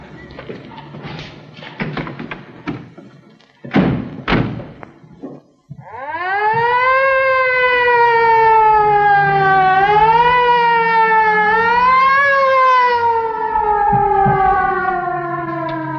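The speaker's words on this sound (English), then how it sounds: "Follow that ambulance." An ambulance siren in an old film wails loud and close, rising and falling in long sweeping tones after a few heavy thumps and knocks.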